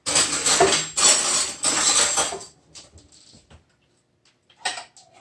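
A spoon digs into a container of soup for a chicken pot pie filling, making close clinks and scrapes for a couple of seconds, followed by a few faint, scattered knocks.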